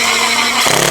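A power drill bores through an aluminium downpipe bracket with a loud, close, high-pitched whine, and its pitch drops near the end as the bit breaks through.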